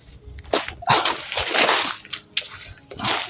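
Water drawn from a well splashes and sloshes in a run of uneven bursts, close and fairly loud, with sharp splatters between brief pauses.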